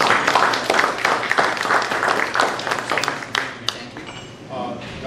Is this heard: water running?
no